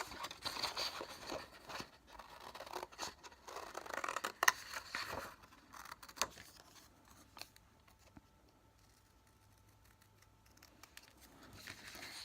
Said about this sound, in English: So I'm just cutting out my semicircle, and I'm also including my little flap to connect it.